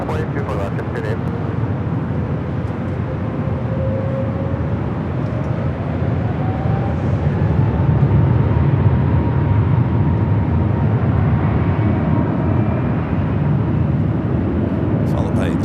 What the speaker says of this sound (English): This is Delta Airlines 749 taking off to Tampa, Florida on the A321neo.